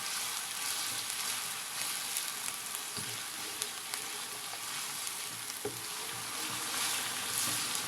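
Beef trotters fry in a pan over medium-low heat until lightly browned, giving a steady, quiet sizzle with faint pops and occasional stirring clicks, with no talking.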